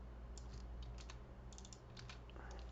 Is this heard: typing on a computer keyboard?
yes